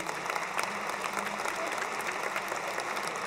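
A crowd applauds the Pope at the Vatican during a lunch for 1,500 poor people, steady dense clapping sustained throughout at moderate distance with no clear voices over it.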